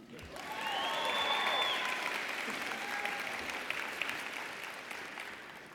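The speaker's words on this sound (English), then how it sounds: "You can applause." Audience applauding at a spring college commencement ceremony, a dense sustained burst of clapping from a large crowd in a hall that swells quickly and then slowly fades, with a few faint cheers on top.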